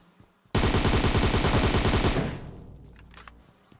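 A rapid automatic-weapon burst rings out in PUBG Mobile, loud and close, with dense repeated shots for about a second and a half. It then fades into a trailing echo and scattered faint clicks.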